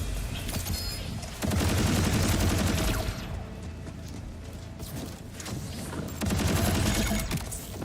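Rapid gunfire in Borderlands 4 during a boss fight, repeated bursts of automatic shooting with short pauses between volleys, loud and close over dense game noise.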